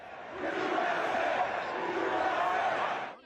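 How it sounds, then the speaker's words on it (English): A crowd at a Pittsburgh Steelers football game cheers in a sustained, dense roar that swells in and then fades out at the end. "he pumped his fist to cheers from the crowd"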